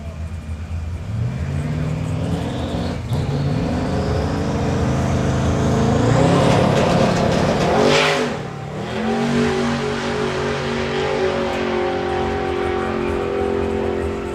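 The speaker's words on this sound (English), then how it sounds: "Just chirp the tyres as you left the line, so just have a second stab at it" A Street Eliminator street-legal drag racing car revs loudly at a drag strip, its engine note climbing as it launches off the line, then a brief dip before the motor pulls strongly again, with a commentator talking over it.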